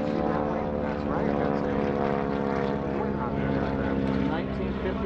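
A 1952 Cessna 195 propeller airplane drones past steadily at an airshow parade, its radial engine humming with a rich, even tone throughout while someone talks over it.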